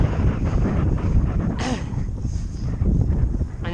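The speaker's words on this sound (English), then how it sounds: "I didn't expect the wind to be this strong." Strong wind buffets the microphone while a rider pedals a Raleigh Strada TS2 road bike on an open road, a loud, steady rushing roar with gusts throughout and no clear talk.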